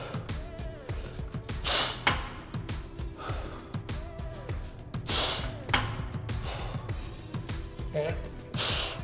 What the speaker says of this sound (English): You can hear me breathing on each contraction.